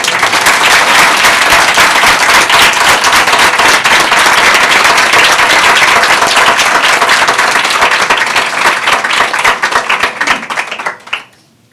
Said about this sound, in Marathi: इथे झालेला टाळ्यांचा गजर सगळ्या पुण्याला तरी किमान ऐकू जाऊ दे.